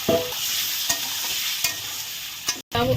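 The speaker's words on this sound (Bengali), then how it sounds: "দেখো আলুগুলো আমি এখন একই তেলে ভেজে নিচ্ছি।" Potatoes frying in oil reused from frying eggs, with a bright continuous sizzle broken by a few sharp stirring scrapes and a brief gap near the end, no talk.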